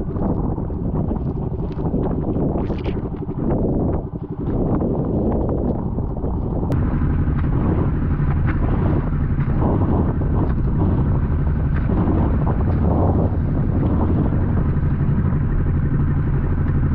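Strong wind at sea roars and buffets steadily against the microphone, with a low engine-like rumble and rushing water noise throughout; no one speaks.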